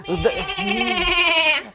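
A costumed Christmas goat performer in Zhytomyr region gives a loud, close bleating goat imitation in a human voice, one sustained wavering call of under two seconds.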